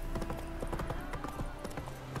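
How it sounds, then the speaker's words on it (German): Steady clip-clop of horse hooves in a quick, even trot in the video game The Witcher 3: Wild Hunt, with a faint whinny-like tone underneath; no talking. "Ach, ich reite gern mit meinem Pferd."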